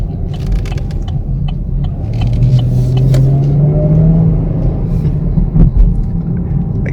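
A 2017 Chevy Camaro with the 275 hp V6 rumbles close by, its trumpet-shaped exhaust giving a steady low drone that rises smoothly in pitch as the revs climb and then settles back.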